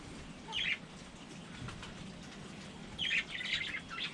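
Pharaoh quail and other farm birds call in short bursts of high chirps in a wintertime pen, heard faintly over a quiet background.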